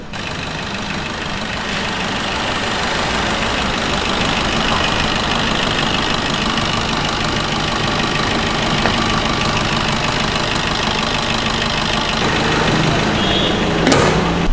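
A Ruby vehicle's engine runs right after carbon cleaning, a steady, loud, close idle with a rough knocking texture that holds for about fourteen seconds before a brief sharp noise near the end.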